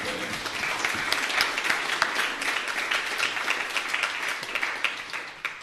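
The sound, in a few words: round of applause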